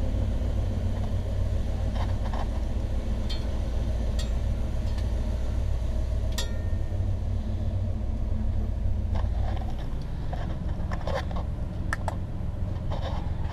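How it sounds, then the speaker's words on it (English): A 1960 Pontiac barn-find car runs steadily while driving, its engine a continuous low rumble with road noise throughout, a few faint clicks and rattles scattered over the top, and no talking. "That's what I call a good running car."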